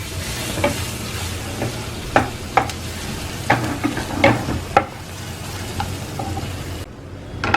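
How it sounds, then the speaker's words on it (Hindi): Minced garlic roasting in a hot pan gives a close, steady sizzle, punctuated by several sharp scrapes and clacks of a spoon stirring, with no voices. "थोड़ा रोस्ट कर लेंगे गार्लिक को।"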